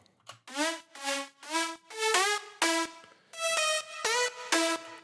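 A dry synth lead plays a short melody of separate, clipped notes with clean gaps between them and no lingering tail.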